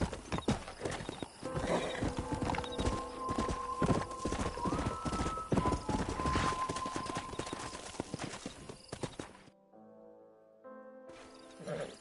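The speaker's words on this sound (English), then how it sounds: "We got some fine horses." Horses in the video game Red Dead Redemption clip-clop at a gallop through most of the clip, loud and close, with a whinny rising over the hoofbeats, before cutting to a quieter tonal stretch near the end.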